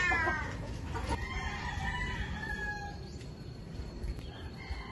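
Brooding hens clucking nearby, soft repeated clucks and murmurs over a faint farmyard background, with a distant rooster-like call, no talk.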